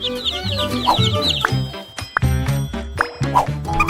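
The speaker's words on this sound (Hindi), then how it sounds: "इसे देखो तुम लोग, असली छोटे चूजे, बहुत छोटे और कोमल हैं।" Fowl clucking and calling with high chirps, close and fairly loud, with repeated bursts over a steady farmyard-like background; small baby chicks chirping are among the birds, no talk present.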